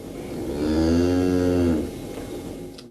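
A single long, loud moo from cattle in a barn, rising and holding for about a second before fading, close by and with no voices over it.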